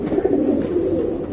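Pigeons cooing steadily in a Bangalore loft of racing birds, a continuous low burbling coo close by with no talk over it.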